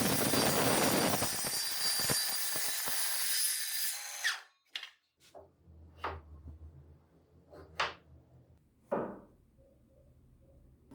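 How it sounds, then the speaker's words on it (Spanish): A handheld circular saw trimming the edges of a wooden jig, a loud high whine of the blade cutting for about four seconds, then a sudden stop followed by scattered knocks and clunks of handling wood. "Corregiré los bordes cortándolos con la sierra circular de mano"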